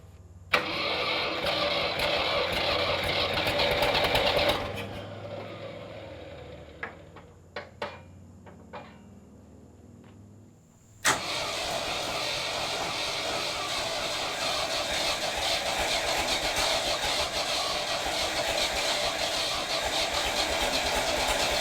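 A 1960s Ford tractor engine, left unused for over ten years, runs loudly, cuts out into a few sputtering coughs and clanks, then fires again and settles into a steady, close, continuous rumbling idle.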